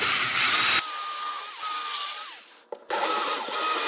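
A power drill whines steadily as it bores holes into roof wood, pausing briefly before the bit bites in again; close and fairly loud with no talking.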